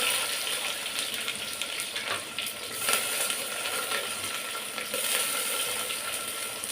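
Chopped onions sizzle and crackle in hot oil with popping mustard seeds in a pan, a steady close hiss with scattered sharper pops throughout.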